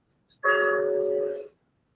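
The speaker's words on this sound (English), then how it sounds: "That's my alarm." A steady electronic alarm tone sounds for about a second, clear and fairly loud, preceded by two tiny faint beeps, then silence.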